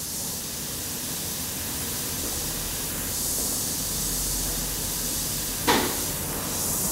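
An airbrush sprays paint onto dice in a steady, soft hiss of air that runs for several seconds, with one brief sharper burst near the end and no voices.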